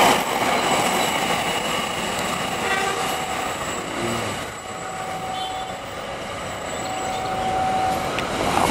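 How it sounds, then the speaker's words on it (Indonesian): A KUJR track measurement train rolls past on an Indonesian railway line, a loud, steady rumble of wheels and carriages that holds for the whole stretch with no talking. "Ini ada kereta api unik, kereta api ukur atau KUJR"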